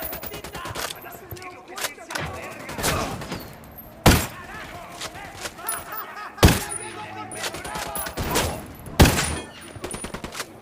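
Sniper gunfire and combat in the Ghost Recon Wildlands video game, with several loud, sharp shots ringing out at irregular intervals over continuous battle noise and a busy game soundscape, up close.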